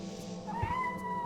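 A cat meows once in the stealth game Thief 3, a rising tonal call heard against a steady game ambience.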